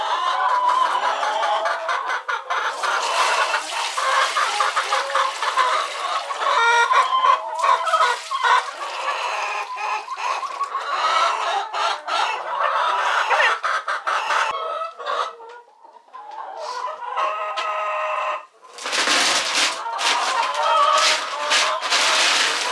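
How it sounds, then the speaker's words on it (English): Chickens cluck and squawk continuously, loud and close, with a rooster crowing among them. "Hi, chickens!"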